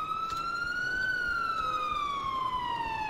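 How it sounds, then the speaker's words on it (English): An ambulance siren from the EmergeNYC game wails steadily in one long, smooth tone that slowly rises and then falls, clear and alone with no talk over it. "Shoot, forgot to turn off my siren."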